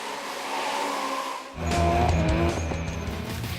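Drift cars at a Formula Drift event in Singapore race past with a loud, sustained tire squeal and roaring engines that cut in suddenly and stay close and dominant.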